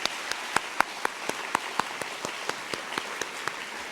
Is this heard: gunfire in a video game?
no